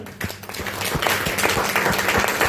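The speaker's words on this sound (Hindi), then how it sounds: "गर्व की बात है, एक जोरदार तालियां होनी चाहिए।" A short burst of audience clapping rings out at a gathering, fairly loud and close, with dense overlapping claps and no speech.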